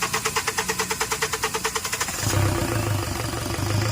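A Hyundai Accent CRDI diesel engine with a hard-starting fault cranks in a rapid, even rhythm of about twenty pulses, then catches and settles into a loud, rough, clattering idle.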